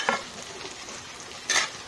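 Bitter gourd fries in oil in a pan with a soft, steady sizzle, punctuated at the start and near the end by two louder bursts of stirring scrapes.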